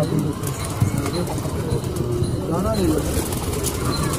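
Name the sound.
pigeons cooing and flapping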